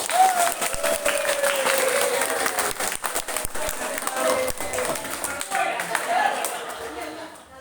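Loud, sustained applause from a crowd at a company gathering of Pertamina's Patra Jasa staff, dense clapping filling the whole stretch with a few whoops and voices mixed in.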